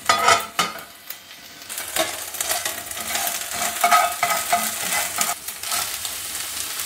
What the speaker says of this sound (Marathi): गरम गरम तव्यावर मी थंड थंड जिंजर गार्लिक पेस्ट टाकलाय.